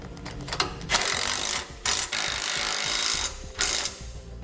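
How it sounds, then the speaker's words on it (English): Bolts being tightened on the bumper beam of a 2017 Chevrolet Equinox, a close, continuous ratcheting whir with several short pauses between bursts, no talking. "We'll tighten these bolts down now."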